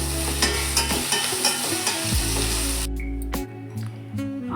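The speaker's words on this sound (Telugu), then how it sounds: "2 పెద్ద ఉల్లిపాయలు సన్నగా తరుక్కొని బ్రౌన్ కలర్ వచ్చేంత వరకు వేయించుకోవాలి." Thinly sliced onions frying in oil in a pan for royal Mughlai chicken, a steady loud sizzle with repeated spatula scrapes and knocks, plus a low hum that drops out partway, no speech.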